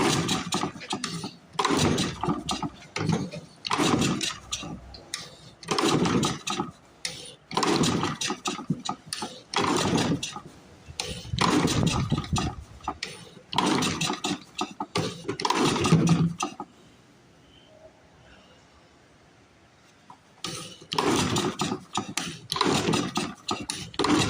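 A 1930s Briggs and Stratton Model Y small engine, fed carb cleaner, is cranked over and over in rough, rhythmic chugging bursts as it tries to catch, goes quiet for a few seconds, then starts chugging again.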